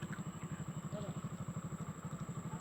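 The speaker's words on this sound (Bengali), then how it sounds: "দেখো একটা মানুষ বাইক নিয়ে খালি গেল।" A motorbike rolls past nearby, its engine putting out a steady, rapid throbbing pulse that holds at moderate loudness throughout.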